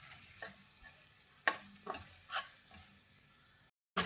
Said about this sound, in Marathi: त्याच्यात थोडं बेसन कच्चं असल्यामुळं आपण त्याला पण एकदा परतून घेणार